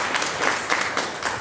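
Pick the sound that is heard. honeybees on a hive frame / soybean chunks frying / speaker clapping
speaker clapping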